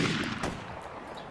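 A high-powered rifle shot fired in the video game Arma 2 DayZ mod: a single loud blast trailing into a noisy decay.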